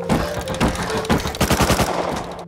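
Rapid bursts of AK rifle fire in the survival video game Rust, several volleys of automatic shots at mid distance, crackling in quick clusters with brief pauses between them.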